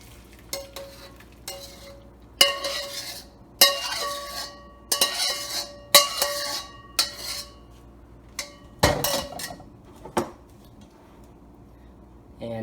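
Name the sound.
pouring sauce into a bowl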